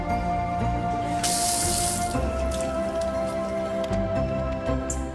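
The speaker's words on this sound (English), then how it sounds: "wash your hands with soap and water" Tap water runs steadily from a faucet into a sink as hands are washed with soap after cleaning up a cytotoxic drug spill, a close continuous splashing hiss with a brighter surge partway through and no talking.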